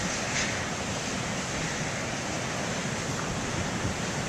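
Big ocean surf pounds the shore in strong wind, a loud, continuous wash of breaking waves mixed with wind buffeting the microphone.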